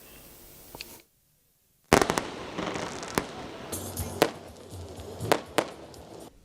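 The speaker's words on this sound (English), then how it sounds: "The Millennium Tower in Abuja is venue of these fireworks, the first ever in the history of presidential inauguration activities" Fireworks burst at a midnight presidential inauguration celebration at the Millennium Tower in Abuja, a loud crackling barrage of sharp pops and booms after a brief silence, with several standout bangs ringing through.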